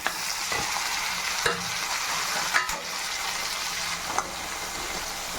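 Half a kilo of cleaned prawns sautéing in a pan for a prawn thokku, a soft continuous sizzle with occasional stirring clinks, fairly quiet throughout.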